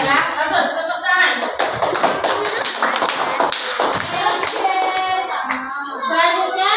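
Children in a classroom give a short round of hand clapping, quick and uneven, mixed with shuffling, taps and a teacher's voice over it.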